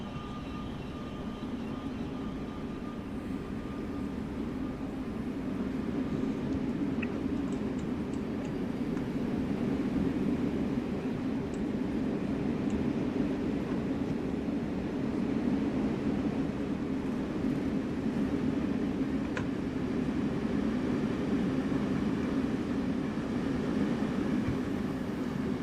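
Train in a railway video game, running deadhead on a New Jersey route toward Montclair, gives a steady, unbroken rumble with a faint high hiss, constant in loudness throughout with no voices.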